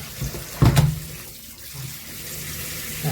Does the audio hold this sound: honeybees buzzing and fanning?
no